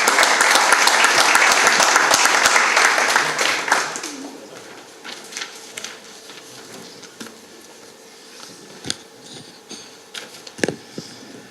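Audience applause at a French regional presentation of a new digital platform, a dense loud wash of clapping for about four seconds that then fades to scattered claps and faint room noise.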